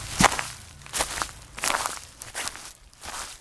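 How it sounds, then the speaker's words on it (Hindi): Heavy footsteps of a monstrous officer in a Hindi cartoon, several thudding steps with crunchy, swishing texture at a steady pace, moderately loud with no talk. "उसके कदमों की आवाज 2 नहीं 4 सुनाई देती थी"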